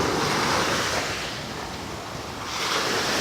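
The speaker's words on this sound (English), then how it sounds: "And the waves, they ain't bad." Atlantic Ocean waves breaking on a beach give a steady, loud wash of surf with some wind rumble, swelling slightly near the end, with no voices.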